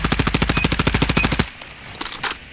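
Rapid automatic gunfire from the CBR4 rifle in a video game: a steady burst of about fifteen evenly spaced shots for roughly a second and a half, then a short pause and two brief follow-up bursts.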